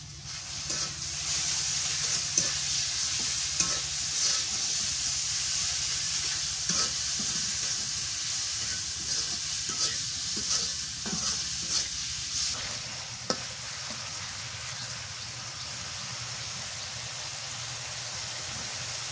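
Spice masala with turmeric and salt sautéing in a pan, a steady close frying sizzle punctuated by irregular spatula scrapes and taps, without speech.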